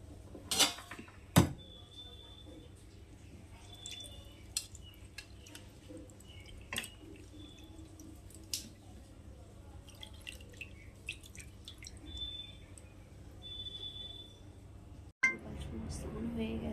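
Water is used to bathe a Gopal idol: faint, sparse drips and splashes with occasional light metallic clinks in a quiet room.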